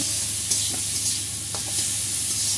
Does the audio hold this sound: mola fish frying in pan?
yes